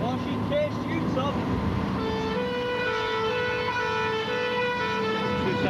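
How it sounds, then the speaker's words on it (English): Loud fire engine air horns, two sets, blare in long sustained tones amid traffic noise in Merseyside, England, with pitch shifting as the blasts continue. "2 sets of air horns on the machine."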